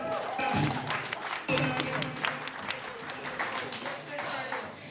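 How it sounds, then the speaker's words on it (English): An audience at a real-estate agent mastermind event breaks into sustained applause that lasts throughout, with cheers and a voice carrying over the clapping. "Give Adrian a round of applause."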